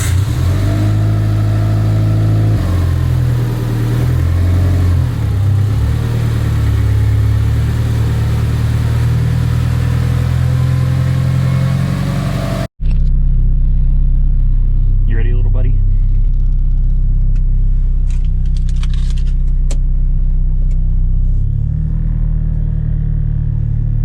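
A rebuilt, previously abandoned Mitsubishi Lancer Evolution 9 MR with metal found in its oil drives along, its engine a loud, steady rumble that revs and shifts, cutting briefly midway and continuing lower afterward.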